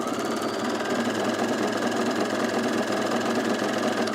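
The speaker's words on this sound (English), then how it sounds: "Okay, so let's put our overlocking on this." An overlocker runs steadily, sewing and trimming seams on woven fabric, a continuous fast mechanical whir close up with no pauses and no talk.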